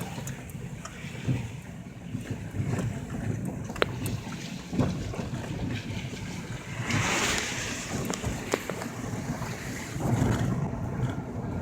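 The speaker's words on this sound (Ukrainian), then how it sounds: "Річка Черемош з правої сторони." The Cheremosh river flows in the Carpathian mountains, a steady broadband rush of water heard close by with wind-like noise, continuous throughout.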